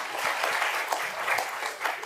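A book launch audience in South Africa claps together, a brief, steady round of applause from a roomful of people with a few louder claps near the front.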